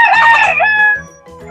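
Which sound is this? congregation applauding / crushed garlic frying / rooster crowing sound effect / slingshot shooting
rooster crowing sound effect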